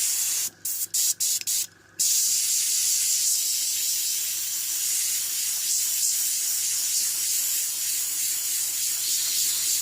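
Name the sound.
spraying paint out onto cardboard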